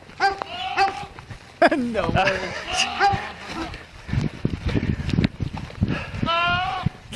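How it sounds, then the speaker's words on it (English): A goat bleats from a video played back, its wavering cries rising at the start and again near the end while people talk and react over it. "Is it goat? A goat."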